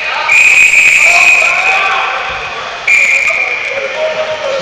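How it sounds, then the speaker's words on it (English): Referee whistle at a basketball game, two loud shrill blasts, the first long and the second shorter, heard over gym noise and voices. "before that extra whistle, I don't know."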